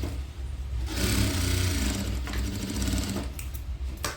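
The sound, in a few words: sewing machine stitching fabric side seams of baby skirt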